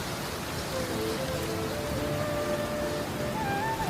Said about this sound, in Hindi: बारिश फिर से शुरू हो जाती है।